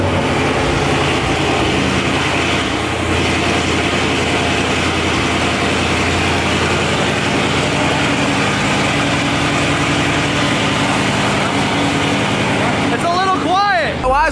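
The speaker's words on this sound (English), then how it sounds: "One last cold start." A Mach 1 Mustang's engine idles steadily and loudly after a cold start, with a dense, unbroken rumble throughout and a few brief high squeals near the end.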